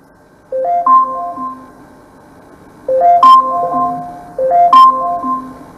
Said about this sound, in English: And that's the alarm.